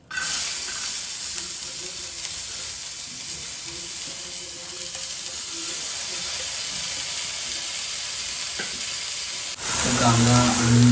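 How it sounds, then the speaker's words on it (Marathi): Onion and chicken coated in masala cooking in a pan, a steady close sizzle running throughout, growing louder and fuller near the end. "कांदा आणि चिकनला मसाला लावला आहे, तर शिजत ठेवलं आहे"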